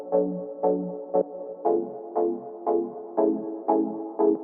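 Octave-up synth with pitch and formant shifted and light vibrato, processed through Polyverse I Wish, playing about ten separate sustained notes in a steady rhythm, clear and alone.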